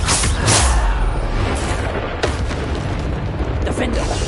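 Bombarda spell explosions in Hogwarts Legacy, loud booming blasts with a strong burst near the start and further impacts following in the combat din.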